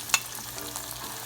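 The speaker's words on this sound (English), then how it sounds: "I want to get all this eggplant into that hot oil" Breaded eggplant coated in flour, egg and breadcrumbs frying in a shallow pan of hot oil at home, giving a steady close crackling sizzle with a brief sharper spatter near the start.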